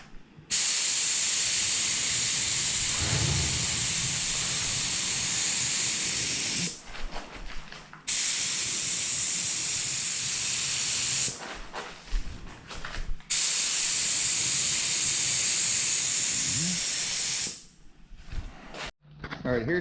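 A spray gun hisses in long continuous bursts while painting a Honda CRX bumper, loud and close, with short pauses between passes.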